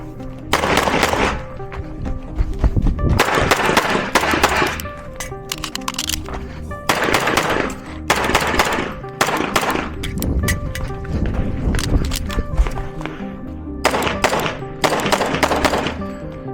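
Pistol shots during a stage of an outdoor IDPA defensive pistol match, loud close bursts of rapid fire in several strings separated by short pauses.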